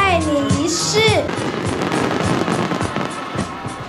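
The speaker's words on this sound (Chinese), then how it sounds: "超过20000发烟火照亮整座山城" A New Year's Eve fireworks display of more than 20,000 shells over a hillside city in Kaohsiung, with whistling rockets rising and then a dense, continuous crackle of bursts, loud and close, with crowd voices underneath.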